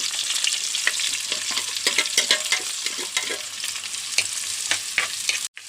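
Ginger and green chili fry in hot oil for a fish curry, a steady loud sizzle with frequent scraping stirs, cutting off abruptly near the end.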